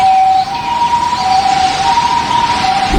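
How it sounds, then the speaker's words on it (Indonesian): A toy ambulance siren wails in a steady, high electronic tone that rises and falls, loud and close, with no voices over it. "Mobil ambulan."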